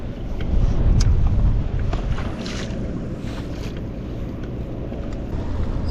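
Wind gusting over a boat on the St. Croix River, a steady broadband rush with low buffeting, strongest early on and then holding at a constant level, with no talking.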